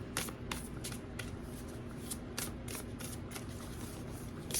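Someone shuffles a deck of cards by hand, with a steady series of crisp riffling bursts close by. There is no talk.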